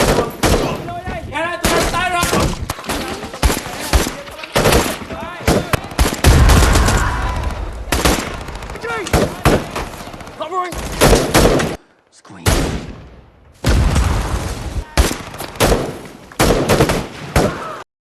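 Film battle gunfire with sniper support fills the scene: dense, loud bursts of rifle and machine-gun fire crackle almost continuously, broken by a brief lull, as soldiers move through an area and talk is heard under the shooting.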